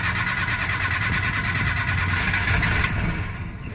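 Maruti Omni van on a cold morning, its engine catching and running roughly for a few seconds with uneven throbbing, then cutting out as the sound drops away and stalls.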